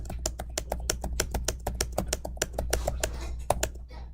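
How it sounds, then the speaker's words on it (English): Rapid, close keystrokes on a computer keyboard as names are typed in, a steady run of crisp clicks with no voices. "And then I type in everyone's name again."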